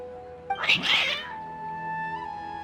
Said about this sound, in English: Your cats seem pretty worked up.